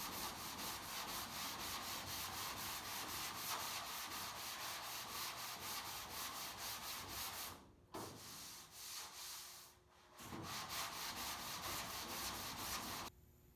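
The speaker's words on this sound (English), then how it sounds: "It's all block sanded the first time over." Sanding block rubbing steadily across the body panels of a 1973 Toyota Celica under restoration, a loud, continuous rhythmic scraping with brief pauses near the end, close by and without voices.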